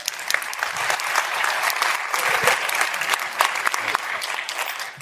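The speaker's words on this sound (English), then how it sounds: "One applause for Miikka." Conference audience at a software event claps warmly, continuous applause with distinct nearby claps, swelling slightly in the middle before easing off.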